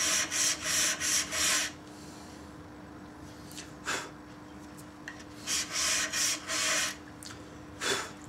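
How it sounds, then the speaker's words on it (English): Chisel back being flattened by hand on a sharpening stone, a close, rasping scrub in quick rhythmic bursts of strokes, a pause, then another run of strokes, with no talking. "So I've got to re-flatten the back of this chisel"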